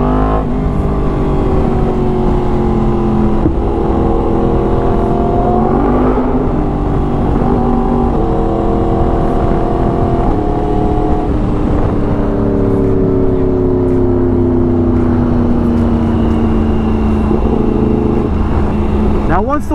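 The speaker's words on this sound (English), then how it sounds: "God, this bike sounds so damn good." A 2016 Yamaha R1 sportbike engine roars steadily up close while being ridden, its pitch climbing and dropping repeatedly through the throttle and gear changes.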